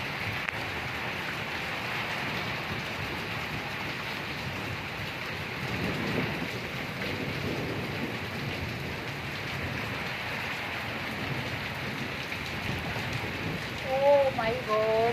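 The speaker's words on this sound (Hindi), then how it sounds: "बारिश बहुत ज़्यादा है यहाँ पे मई में इस वक्त" Heavy rain pours steadily over Murree, a dense, continuous hiss close by that lasts the whole stretch with only slight swells in loudness.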